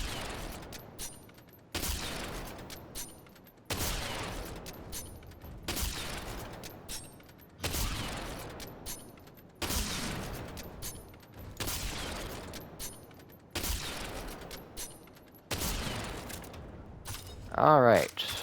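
Bolt-action sniper rifle in a video game fired repeatedly at a training dummy, eight heavy single shots spaced about two seconds apart, each with a sharp crack and decaying tail, then brief mechanical clicks.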